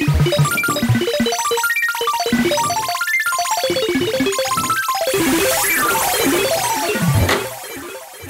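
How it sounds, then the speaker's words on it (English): An extreme arpeggio from the Camel Audio Alchemy software synthesizer: rapid cascading runs of bright, bell-like notes rising and falling in repeated waves, dense and loud throughout, with a fuller, noisier wash late before thinning at the end. "I'm going to show you how to make an extreme arpeggiator."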